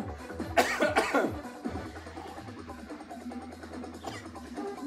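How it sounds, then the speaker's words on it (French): A few harsh coughs close by in quick succession, followed by quieter throat noises and a final short cough. "Je tousse."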